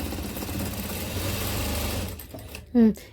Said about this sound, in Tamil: இது வரைக்கும் நம்ம மிஷினில் தைக்க ஆரம்பிச்சிடலாம்.